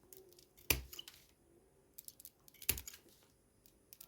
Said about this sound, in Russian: Теперь обрезаю полностью все лишние наши вот эти хвостики